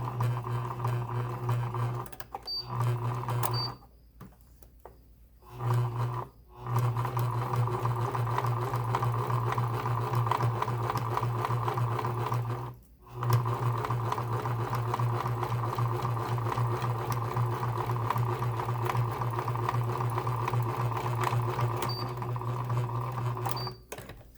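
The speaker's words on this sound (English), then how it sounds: "We'll go ahead and sew the other side." A sewing machine stitches the seams of a fabric face mask in long, steady runs of rapid mechanical chatter, broken by a few short pauses, close and loud with no talking.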